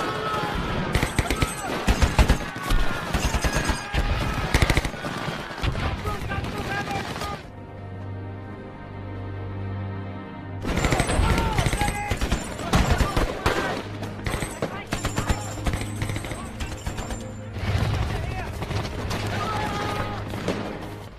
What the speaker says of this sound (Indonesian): para tentara Jepang secara membabi buta terus menyerang mereka, dan pertempuran sengit pun terjadi.